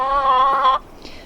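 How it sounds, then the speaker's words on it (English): A hen in a greenhouse gives a single drawn-out, loud, close clucking call that ends abruptly, followed by quiet background. "The chickens love to be in the greenhouse."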